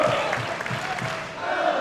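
Loud, sustained cheering from a wrestling audience in Liverpool backing El Ligero, a continuous roar of voices with scattered shouts and some clapping throughout.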